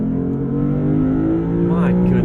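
A 2022 Lexus IS 500 F Sport Performance V8 sedan revs hard, its deep engine note rising and swelling, loud and close from inside the cabin. A voice talks briefly over it.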